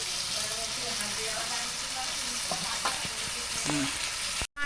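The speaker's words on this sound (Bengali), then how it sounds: "মাংসটা দিয়ে দিলাম এরপর আমি নাড়তে থাকলাম" Meat sizzles and crackles steadily as it is stirred in a pot for biryani, with occasional louder scrapes of the spoon against the pot, close and continuous until a brief cutoff near the end.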